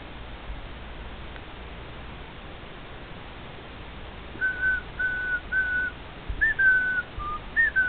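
A pet bird whistles several short, clear, bright phrases over a steady low background hiss, starting after a few seconds of quiet and repeating in small bursts toward the end.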